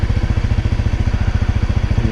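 A Honda CRF250L dirt bike on a leafy, rocky trail, its single-cylinder engine chugging close by in a fast, even pulsing rhythm at low revs, with no talking.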